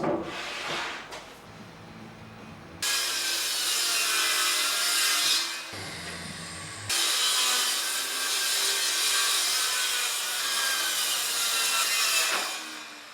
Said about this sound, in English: I started with a single sheet of plywood that I could cut up into 2 sides and 3 shelves, all from this one piece.